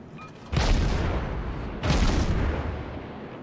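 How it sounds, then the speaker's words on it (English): In a naval combat video game, a heavy battleship shell strikes the player's ship: two loud, deep booms about a second apart, each followed by a long rumbling decay. "Was that a battleship hit?"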